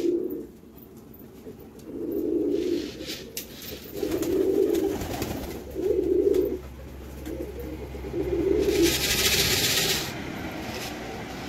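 Pigeons in a loft coo in a steady series of low, throaty bursts, about one every two seconds, heard fairly close, with a brief rustle of wings near the end and no talking.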